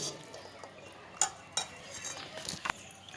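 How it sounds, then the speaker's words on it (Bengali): A spoon scrapes and clinks against a pan and plate while fried chickpeas (chola bhuna) are served, with a few sharp metallic taps standing out over faint background noise. "আমি এবার প্লেটের মধ্যে তুলে নেব"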